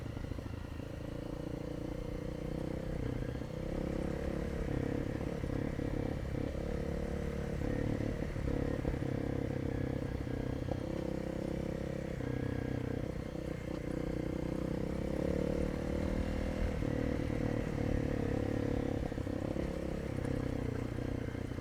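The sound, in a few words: motorcycle engine braking in third gear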